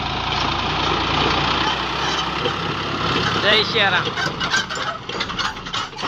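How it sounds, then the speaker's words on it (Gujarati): Several tractor engines run nearby on a road by the sea, a dense rumbling drone that holds steady with a rough, knocking texture, while someone speaks briefly over it. "ઘણા ટ્રેક્ટર શરૂ છે હો ભાઈ જુઓ ટ્રેક્ટર આવે છે"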